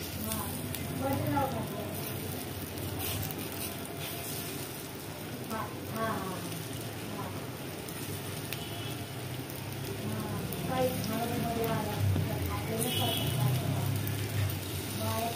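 Paneer slices frying in hot oil in a pan give off a steady crackling sizzle throughout, with a voice talking over it.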